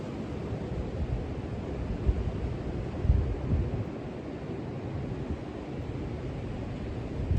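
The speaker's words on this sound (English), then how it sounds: "Windy." Steady wind rushing and buffeting against the microphone, a continuous low roar with a few stronger gusts and no voices.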